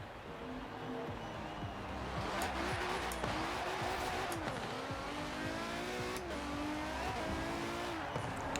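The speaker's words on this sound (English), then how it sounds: "V12 instead of the old V8. It accelerates very quickly." Mercedes V12 fitted with a Brabus kit accelerating hard in Forza Horizon 4, a loud continuous engine roar rising through the gears with repeated shift dips and faint tire noise, close and steady throughout.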